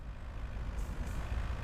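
A truck's engine rumbles steadily at low pitch in the video game Car Dealer Simulator Prologue, a continuous, moderately loud drone heard fairly close without speech.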